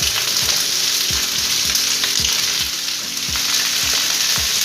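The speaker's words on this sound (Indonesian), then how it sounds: "Masukkan sayuran pop, tomat hijau," Vegetables and green tomatoes stir-fry loudly in a hot pan, with a continuous close sizzle and regular scraping strokes of a spatula.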